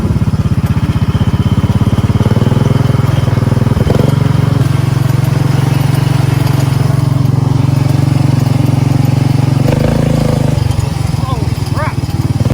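A 440cc golf cart engine fitted with a new torque converter drives loudly and steadily with a strong droning hum, dipping briefly near the end before picking back up.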